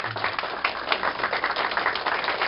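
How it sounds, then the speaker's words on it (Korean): An audience at a Korean fathers' school gathering claps warmly for a couple, steady dense applause from many hands, even and moderately loud for the whole stretch with no speech. "여러분 뜨거운 격려의 박수를 좀 부탁드리겠습니다"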